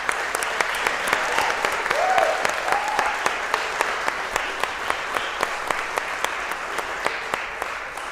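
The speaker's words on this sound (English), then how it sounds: "So I do want to give a great round of applause to Sean" An event crowd applauds warmly for several seconds, a broad wash of clapping with a few louder individual claps standing out, and brief cheering or voices mixed in.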